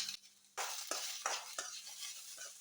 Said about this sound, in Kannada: ಜಿಂಜರ್ ಗಾರ್ಲಿಕ್ ಪೇಸ್ಟ್ ಹಾಕಿ ಚೆನ್ನಾಗಿ ಫ್ರೈ ಮಾಡುವ